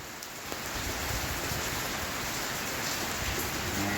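Heavy rain pours steadily at a farm shelter, a dense, continuous hiss of drops on surfaces that holds level throughout with no breaks.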